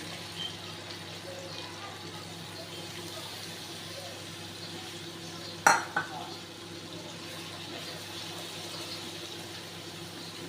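A spiced masala cooks with yogurt over a low flame for a paneer dish, giving a faint, steady sizzle under a low hum, with one sharp clatter midway.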